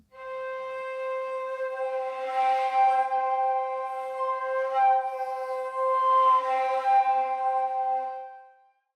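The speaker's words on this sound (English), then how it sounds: "The first source we're going to work with is called Flute Overtone Waves" A woodwind sample of flute overtone waves sustains a steady, breathy tone with clear stacked harmonics, swelling gently twice in airy waves before tapering off, heard alone.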